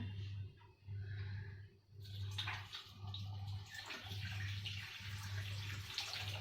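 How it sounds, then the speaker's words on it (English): Water running from a tap in a school science exhibit, a continuous gushing stream that grows brighter and fuller partway through, with a pulsing low hum underneath and no talking. "I'm starting the tap"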